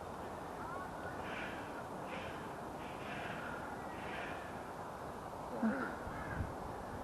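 A crow caws several times at a distance along a nature trail, faint calls spaced out over steady outdoor background noise, with a brief close breath or snort near the end.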